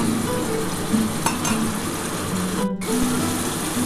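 Spice paste with ground white mustard frying in hot oil in a pan for a restaurant-style pomfret curry, a steady close sizzle with stirring scrapes and a brief dropout partway through.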